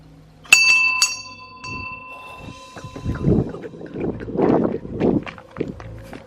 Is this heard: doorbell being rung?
yes